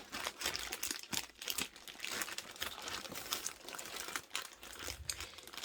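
Crinkling and crumpling of Samsung Galaxy S22 Ultra packaging being cut open with kitchen scissors at home, with continuous close rustling and a few sharper crunches, no talking.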